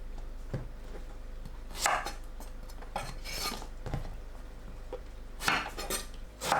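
A knife slices eggplant into 0.5 cm pieces on a cutting board. The cuts come as a few scattered, sharp knocks and a light clatter over a quiet kitchen background, with no talking.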